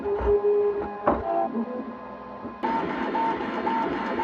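3D printer starting to print a camera lens part, its stepper motors whining in shifting tones with a few clicks and a steadier, brighter hum toward the end, fairly quiet.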